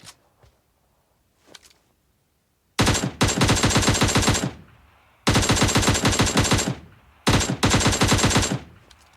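Three long, loud bursts of rapid automatic fire from a shooting video game, each lasting a second or two with short gaps between, after a couple of faint thuds at the start.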